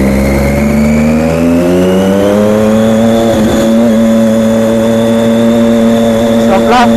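Motorbike engine heard while riding: a loud, steady, continuous drone with a shifting pitch from start to finish and no talk over it.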